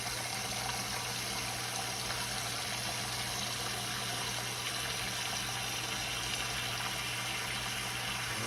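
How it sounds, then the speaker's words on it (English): Liquid pours steadily into a roasting pan for a beef brisket, a continuous gushing, filling sound with no pauses, heard alone and fairly close. "I'll show you exactly how much liquid I'm putting in here."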